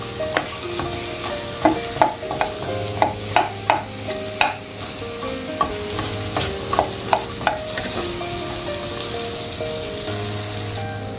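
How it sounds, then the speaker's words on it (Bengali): Fried fish heads are broken up in a pan for a mung dal curry, a spatula knocking and scraping in a run of sharp, regular strikes over a steady sizzle. "মাছগুলো ভাঙতে একটু কষ্টই হচ্ছে,"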